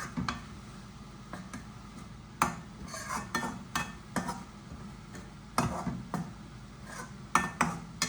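A utensil scrapes and taps against a pan while spinach stir-fry (cheera upperi) is stirred, a close series of irregular clinks and knocks over a soft, steady background.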